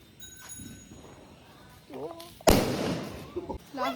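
A single firecracker bursts with a sharp, loud crack during Tulsi festival celebrations, followed by a brief crackle, amid nearby chatter and whistling tones before and after.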